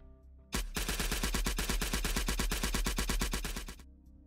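Rapid automatic gunfire from a first-person shooter game built in Armory 3D with Blender, a loud, steady burst of evenly spaced shots lasting about three seconds, then a sudden stop.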